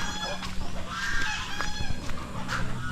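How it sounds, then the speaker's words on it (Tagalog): Chickens on a rural farm cluck and call in short, repeated bursts at moderate distance over a low steady background hum, with no voices. "doon sa kabila may mga manok pa din tayo doon"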